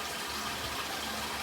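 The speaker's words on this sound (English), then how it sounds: "Just going to fill it up with water and drain it a few times" Water pours into a tank in a steady, loud, unbroken rush with no voices over it.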